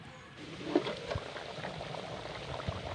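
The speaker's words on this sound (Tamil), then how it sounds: "நல்லா கொதி வந்திருக்கு." Country chicken curry bubbling at a boil in a pot, with a steady close simmering hiss and scattered soft pops.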